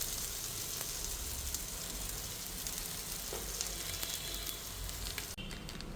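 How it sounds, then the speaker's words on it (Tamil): Ragi roti frying in oil on a tawa gives a steady crackling sizzle throughout, close and even, with a brief clatter near the end. "போட்டுட்டு தவாவில் போட்டு எண்ணெய் ஊற்றிக்கலாம்"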